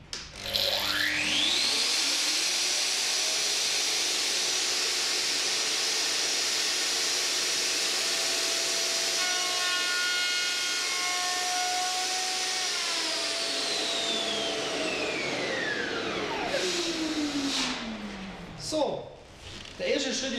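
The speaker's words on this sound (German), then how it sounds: "Ich fahre jetzt mit der Oberfräse an und fräse hier leicht von der Seite rein." A Festool router with an OF-FH milling guide cutting a groove for an automatic door seal, spinning up with a rising whine, holding a loud steady high-pitched cutting roar for about fifteen seconds, then winding down with a falling tone.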